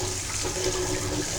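Tap water runs steadily into a bathroom sink while clothes are hand-washed, a loud, close, continuous gush.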